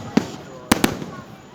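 Fourth of July fireworks go off in three sharp explosive bangs, one and then a quick pair, fairly close by against faint outdoor background.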